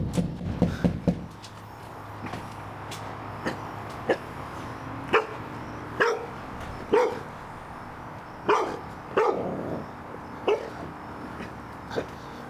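Dogs gathered around a person during a police call in Richland County bark in irregular loud bursts, a few yips and whines mixed in, spread across the whole stretch.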